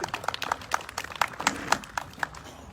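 Round of applause at a book launch in Bissau, with sharp, irregular claps from a modest audience, fairly close and loud, rising and thinning over a few seconds without talk.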